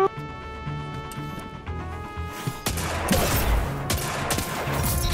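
Rapid gunfire from a Midnight Coup hand cannon in the Destiny video game, sharp repeated shots and impacts over steady game music and effects, loud and close, with no voices.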